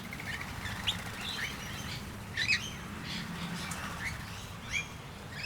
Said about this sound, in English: These are rainbow lorikeets.